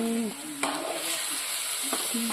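Food fries in a pan during village-style cooking, a steady close sizzle with a couple of scraping stirs, and a clear tonal hum underneath.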